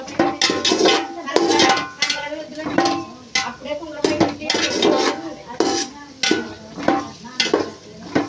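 Vermicelli frying in a pan for semiya kesari, a sweet, with repeated clinks and scrapes of a spoon against the pan coming in bursts over a soft sizzle.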